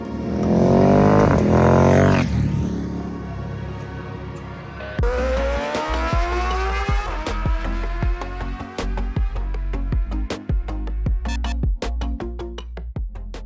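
A new Ducati Monster street motorcycle being ridden: the engine revs hard and high, then drops and climbs again through rising gear pulls, loud and close with sharp crackling pops and no talk.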